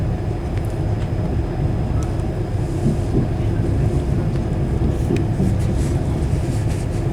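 Inside a moving London-bound train approaching Carlisle, a steady low rumble and wind-like roar holds evenly throughout, with faint clicks and no clear talk.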